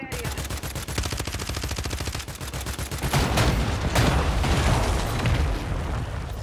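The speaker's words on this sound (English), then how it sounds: "Mortar strike on the way" Rapid gunfire and heavy booming blasts from a mortar strike in Call of Duty MW3 Warzone, a dense rattling burst giving way to a loud, sustained rumble of explosions with no talk.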